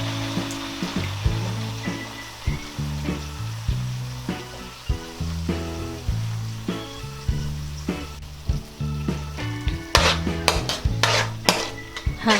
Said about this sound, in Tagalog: Ngayon po ay ilalagay na natin ang tomato sauce.